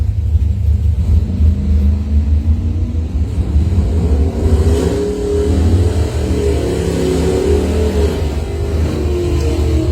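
A Mustang doorslammer drag race car makes a full run at a test-and-tune event, its engine a loud, deep sustained roar with rising rumble across the whole stretch, steady and close.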